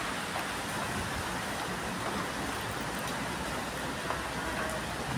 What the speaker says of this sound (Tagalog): Lakas ng ulan. Grabe, ang dilim ng paligid.